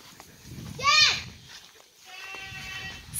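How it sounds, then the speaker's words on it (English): Loose goats in a cow field bleat in a wavering, high-pitched cry, followed by another drawn-out bleat, with scattered talking and outdoor background noise around them. "Stefan, the goats got in the cow field"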